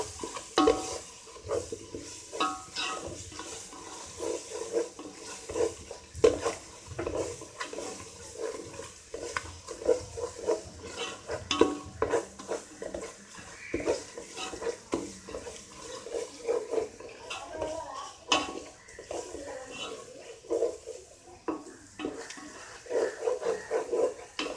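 Ginger garlic paste sautéing in a pan for chicken biryani, with a steady soft sizzle broken by repeated scraping and stirring strokes of a spoon, close and moderately loud, no talking.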